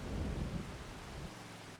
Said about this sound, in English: it's literally just started raining